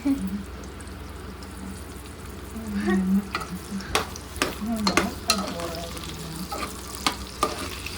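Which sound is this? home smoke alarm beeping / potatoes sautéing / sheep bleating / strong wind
potatoes sautéing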